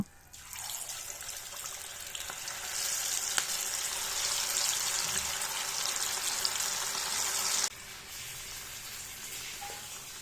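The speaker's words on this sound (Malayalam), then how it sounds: "നന്നായി തിളച്ച വെളിച്ചെണ്ണയിലോട്ട് നമുക്ക് ഓരോ ചിക്കൻ പീസസ് ആയിട്ട് ഇട്ട് കൊടുക്കാം" Chicken pieces dropped into hot coconut oil set off a steady, bright sizzle. It starts within the first half-second, holds loud and even for several seconds, then drops back to a quieter, lingering fry.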